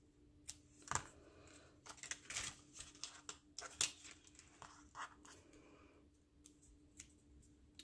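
Scissors snip through paper in a quiet room during card crafting, a series of soft, faint cuts and rustles spaced irregularly over several seconds.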